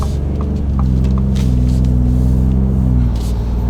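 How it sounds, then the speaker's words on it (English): A Ford F-150 EcoBoost truck engine rumbles and gently accelerates, a steady low drone rising slightly in pitch before easing off near the end. "we got the EcoBoost F-150 on the ground. Let's give it a listen."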